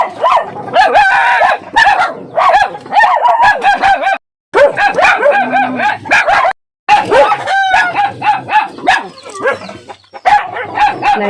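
Several dogs bark repeatedly and loudly at newcomers on a farm, yapping in overlapping bursts almost continuously, with two brief pauses.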